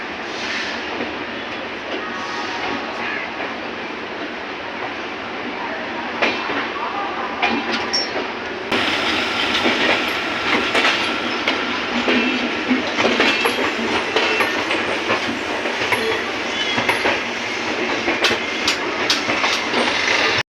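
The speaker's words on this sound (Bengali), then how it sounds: "ছেড়ে দিল হাওড়া থেকে নিউ দিল্লি রাজধানী এক্সপ্রেস 12301" Howrah-New Delhi Rajdhani Express 12301 rolls along with steady rumbling and rhythmic clickety-clack of wheels on rail joints, growing louder partway through, heard from inside the train with some talk mixed in.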